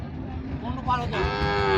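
A bull gives a single long, close moo that rises and holds, over a low background murmur at a cattle market.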